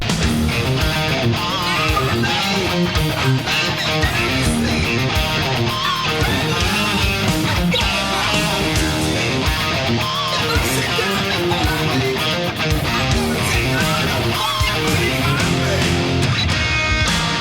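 An electric guitar plays the main riff again after the solo, a dense, loud, steady groove that continues without pause.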